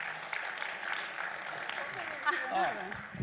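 Audience applause at a 2019 Happy Spring Festival Chinese New Year gala in Los Angeles: a steady wash of clapping from a crowd, running throughout beneath an amplified voice speaking.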